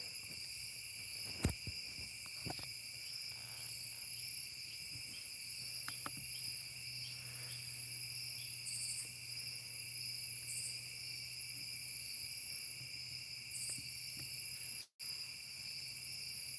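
A dense, steady chorus of crickets and other insects trilling in the night woods, continuous and unbroken, with no voices.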